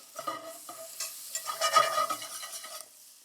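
Butter and flour melting together in a pot for a white sauce, heard as quiet, irregular scraping and stirring with a soft sizzle that swells briefly in the middle before fading.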